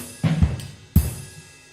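Two tom drum hits recorded from a distance with bells, giving a soft, non-boomy low thud; each strike carries a faint metallic shimmer and decays quickly.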